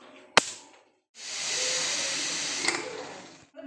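A pressure cooker cooking beef lets out a long, loud hiss of escaping steam for about two seconds, preceded by a sharp click and followed by a quieter tail.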